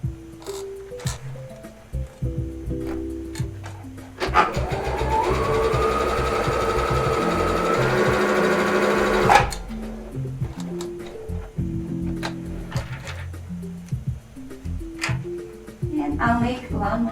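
A household sewing machine runs a stitch in one steady mechanical whir lasting about five seconds, framed by quieter clicks and handling sounds before and after.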